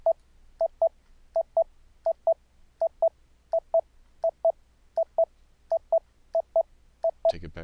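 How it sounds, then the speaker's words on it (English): Short electronic test tone beeps in quick pairs, a first tone followed by its looped-back copy from a Mumble voice-chat server at similar volume, repeating steadily and ending in a brief burst of noise. "that second tone is the mumble loopback coming back from the server"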